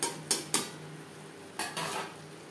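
Fish roe being mixed with chopped coriander and garam masala powder in a pan, a few short scraping strokes of a spoon against the metal, close and fairly quiet, with a faint sizzle underneath and no talking.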